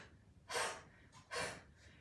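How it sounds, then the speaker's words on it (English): Two forceful, sharp exhalations out of the nose, yoga breathing, each a short airy burst about a second apart, close and clear, the second followed by a fainter puff. "a forceful exhalation out of the nose in that lower abdominal region"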